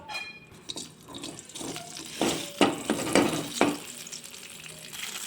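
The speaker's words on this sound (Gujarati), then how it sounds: "હવે બધા જ ખડા મસાલાને આપણે તેલમાં સાતડી લેશું" Whole spices, including a cinnamon piece, cumin and asafoetida, sautéing in hot oil for a dhaba-style matar paneer curry, with a steady close sizzle and several louder crackling bursts midway, no talking.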